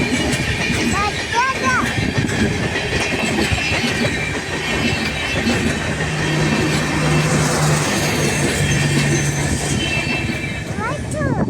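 A train rolls past close by with a loud continuous rumble, rhythmic clatter and brief wheel squeals, while voices can be heard faintly over it.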